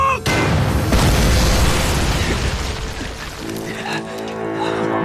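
An artillery cannon fires in a war drama: a sudden, loud close boom, followed by a rumbling, crackling decay that fades into lighter background noise and movement.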